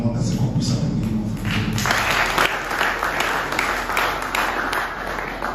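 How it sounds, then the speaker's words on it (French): An audience applauds with a thick wash of clapping that grows fuller after the first seconds and keeps going, while someone talks over the crowd in a large hall. "je demande à ce qu'on puisse applaudir"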